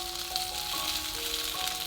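Soaked shiitake mushrooms land in a pan of hot shallot oil with garlic, and a continuous sizzle hisses along under gentle background music.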